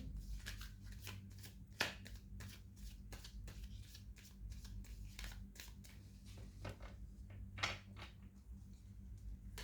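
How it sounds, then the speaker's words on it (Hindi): Tarot cards are shuffled and drawn from the bottom of the deck, making close, quiet, repeated riffles, flicks and slides in irregular bursts with no talk. "बॉटम ऑफ द डेक से पुल कर रहे हैं हम कार्ड"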